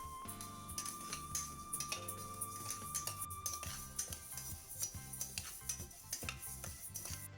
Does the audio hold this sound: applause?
no